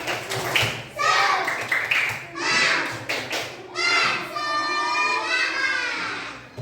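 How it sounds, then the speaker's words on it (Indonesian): Children in a classroom clap and cheer together in rhythmic bursts, with lively voices and shouts mixed in, fairly close. "Yuk, tepuk semangat."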